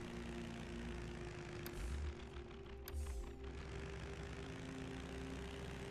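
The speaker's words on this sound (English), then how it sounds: "So let me fly the plane." In a video game, a propeller airplane's engine holds a steady, low, continuous drone, broken by a couple of brief mechanical clicks.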